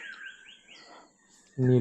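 An Indian roller calls during a core-zone safari in Pench Tiger Reserve, Maharashtra: a short series of clear, fairly faint chirps, followed by a sudden louder, harsher burst near the end.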